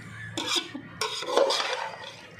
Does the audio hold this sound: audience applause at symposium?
no